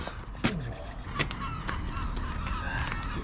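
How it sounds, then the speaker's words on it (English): Seagulls call in Cambridge, a few sharp cries that carry from a moderate distance over steady background noise in a workshop. "Bit strange to hear seagulls in Cambridge."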